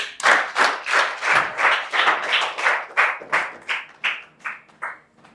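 A church congregation claps in rhythm to acclaim Jesus during a prayer gathering: about a dozen and a half sharp, even claps in a steady beat that thin out and fade toward the end, with no voices over them.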